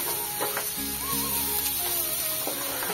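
Grated ginger and garlic fry in a pan with a steady close sizzle, joined by a few soft stirring scrapes and some faint background tones.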